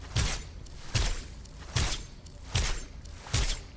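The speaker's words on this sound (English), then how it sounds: "there's like a little splash sound added to that. But it does still sound like ice" Five crisp, icy splash impacts from an Overwatch 2 ice effect land at a steady rhythm, each a sharp crackling burst that quickly fades before the next.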